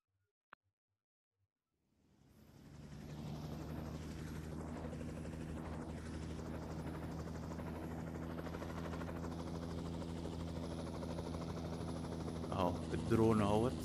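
Drone in a StellarXV interactive environment, a steady whirring rotor buzz that starts after a brief silence and holds loud and close, with a voice talking near the end.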